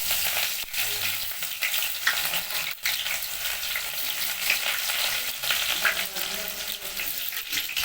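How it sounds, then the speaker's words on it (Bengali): Onions hit hot oil in a heated pan and fry with a loud, steady sizzle and crackle, broken by occasional stirring clatter. "কড়াটা গরম হয়ে গেছে, তেলটা গরম হয়ে গেছে, দেখুন পেঁয়াজ দেওয়া হবে।"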